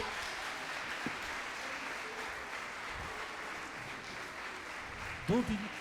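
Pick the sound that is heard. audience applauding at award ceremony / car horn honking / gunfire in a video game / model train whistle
audience applauding at award ceremony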